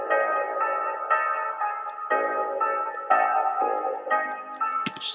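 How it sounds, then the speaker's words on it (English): A sustained piano part from the Nexus software synth plays chord after chord in a steady rhythm, bright and upfront with no voices over it. "the next sound I added to this track was a piano"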